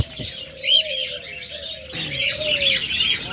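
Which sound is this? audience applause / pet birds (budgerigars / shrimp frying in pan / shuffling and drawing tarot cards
pet birds (budgerigars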